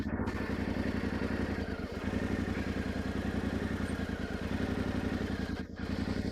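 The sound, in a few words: Yamaha Tenere 700 motorcycle engine on a steep slope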